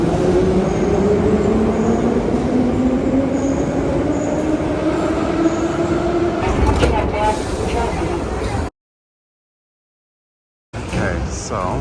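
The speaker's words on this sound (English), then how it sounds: "And that's another train." A Tashkent Metro train rumbles and whines with a rising motor pitch as it moves through an underground station in Uzbekistan, loud and close, before cutting out.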